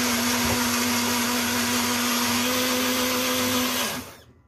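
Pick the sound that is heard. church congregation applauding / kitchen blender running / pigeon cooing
kitchen blender running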